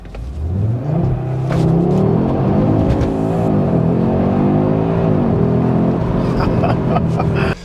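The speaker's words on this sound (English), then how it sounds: "Let me just rewind to see what happened when we did the launch control." A new Audi RS3 hot hatch launching hard with launch control, its engine note climbing loud and close through a sustained surge of acceleration, with a brief dip and rise as it pulls through the gears.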